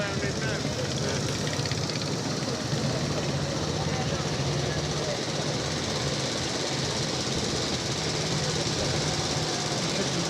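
A vintage OEC motorcycle engine runs at a Banbury Run start, a dense continuous rattling roar held at a steady level throughout, with someone talking over it.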